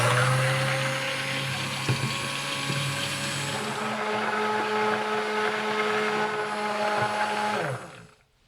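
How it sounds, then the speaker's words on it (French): An immersion blender whirs steadily through a batch of homemade toilet gel, a loud continuous motor drone with sloshing, holding for several seconds before winding down and stopping at the end. "Moi j'ai l'habitude de le passer au mixeur plongeant."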